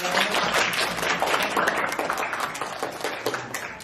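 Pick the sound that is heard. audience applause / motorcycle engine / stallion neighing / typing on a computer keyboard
audience applause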